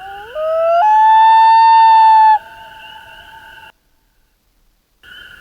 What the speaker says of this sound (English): A loon makes this sound.